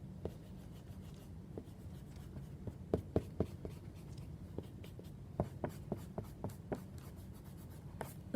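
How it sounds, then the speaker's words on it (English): A pencil guideline is rubbed out with an eraser on paper while drawing a manga face, producing soft scratchy strokes and light taps at close range, scattered irregularly over several seconds with no talking. "Now I can erase out this guideline that was coming down the center."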